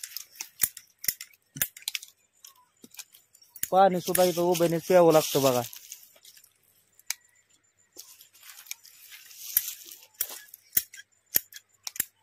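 Pruning shears snip pomegranate branches in a garden orchard, with many sharp, close clicks spread throughout. Someone speaks briefly in the middle.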